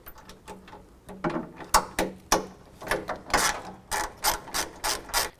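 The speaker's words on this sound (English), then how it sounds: "you can go ahead and tighten up the other large bolt" A ratchet wrench tightening a large rear bumper bolt on a 2017 Chevy Silverado 2500, a close series of rapid clicking strokes that speed up into quick repeated bursts.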